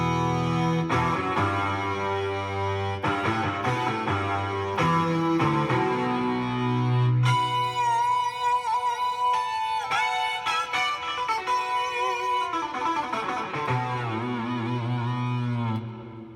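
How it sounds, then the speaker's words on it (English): Distortion guitar voice played on a Technics KN-1200 keyboard, a buzzy overdriven melody with sustained notes and chord hits running continuously at steady loudness. "Distortion guitar too."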